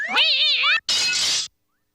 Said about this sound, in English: Who threw the cat through the window?